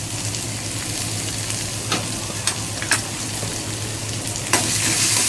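Chopped onions fry in a small wok with a steady, close sizzle, joined by a few sharp scraping clicks of stirring and a louder burst of crackle near the end; no one speaks.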